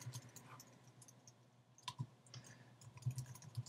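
Keys tapped on a computer keyboard while writing text for a Flash CS4 animation, a quiet, irregular patter of soft clicks with a few sharper strikes, close by and without speech.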